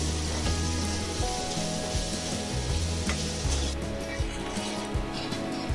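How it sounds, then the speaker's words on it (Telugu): Green chillies and spices fry in hot oil with a loud, dense, steady sizzle and crackle, plus occasional low knocks from the pan. No voice is heard. "ఈ పచ్చిమిర్చిని కూడా ఇందులో వేసేసుకుని మొత్తం అన్నీ కూడా ఆయిల్లో మగ్గనివ్వాలి."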